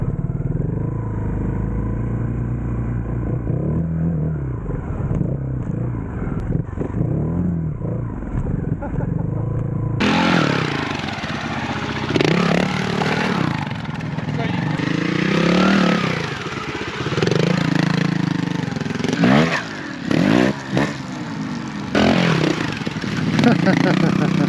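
A trials motorcycle engine revs and rolls off the throttle while riding, a loud, close, rising and falling drone that runs throughout, with people talking over it.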